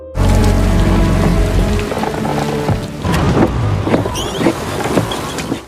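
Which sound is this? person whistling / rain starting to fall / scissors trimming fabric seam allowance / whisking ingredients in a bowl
rain starting to fall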